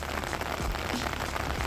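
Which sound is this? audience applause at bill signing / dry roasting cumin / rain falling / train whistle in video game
rain falling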